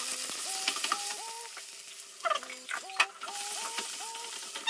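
Mustard and fenugreek seeds, curry leaves and ginger-garlic paste sizzle in hot oil for a Telangana-style fish curry, a steady crackling fry with popping seeds, with a few short tonal chirps sounding over it.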